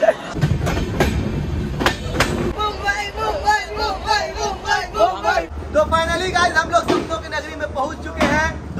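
A passenger train rolls along the rails at a station, giving a steady rumble with rhythmic clacks and squeals beneath a crowd of voices and loud talk nearby.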